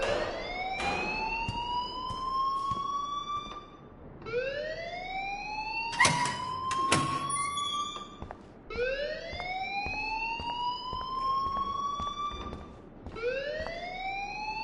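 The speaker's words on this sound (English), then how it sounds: "please turn off that alarm since that's your job" Rising electronic siren-like alarm wails repeat in cycles in the video game Life Is Strange, loud and continuous, each sweep climbing in pitch before restarting, with sharp clicks and knocks scattered between them.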